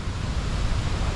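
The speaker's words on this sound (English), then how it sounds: "that's a big wave" Large ocean waves break during a hurricane, heard as a loud, continuous roar of surf and wind-like noise filling the whole short stretch. No voices are heard.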